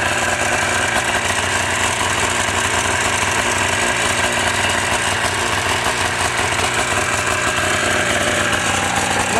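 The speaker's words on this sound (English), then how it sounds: "Sustains a nice idle." A 377cc Rotax twin-cylinder Bombardier Ski-Doo snowmobile engine fitted in a Twister Hammerhead buggy idles steadily and loudly up close, a continuous even rumble with no talk.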